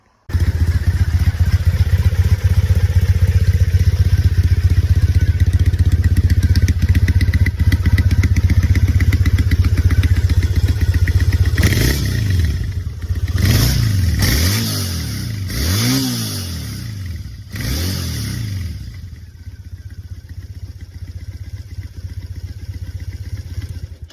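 A Triumph Thruxton 900 motorcycle with its stock factory exhaust idles with a steady, loud rumble, then gets several sharp throttle blips that rise and fall before it settles back to idle. No one speaks.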